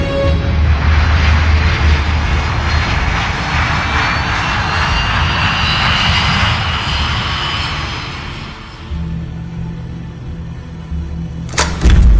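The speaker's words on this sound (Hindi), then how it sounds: "होटल ब्रावो 2201 उड़ान के लिए रास्ता साफ है" Aircraft taking off in a movie scene, a loud, sustained engine roar that swells and then fades as the plane climbs away, followed by lower rumble.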